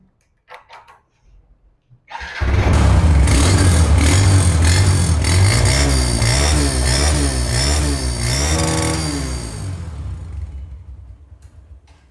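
Honda CB150F motorcycle engine starting and idling loudly close by, a steady rumbling run with a few rhythmic revs in the middle before it settles and fades toward the end.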